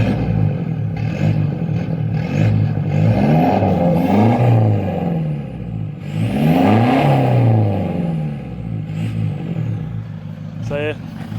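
Toyota Hilux turbo diesel with the muffler deleted, revved several times: rising and falling engine roars in repeated swells, loud and close, with a brief chirp near the end.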